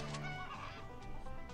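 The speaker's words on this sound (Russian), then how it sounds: "Оу, курицы." Chickens in the video game Swamp Attack 2 cluck in a short run of soft, clipped calls, close and clear with no talk over them.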